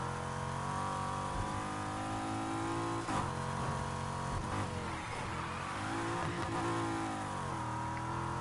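A race car engine in the video game Need for Speed Heat roars continuously, revving up and down through gear shifts, loud and steady with no voices.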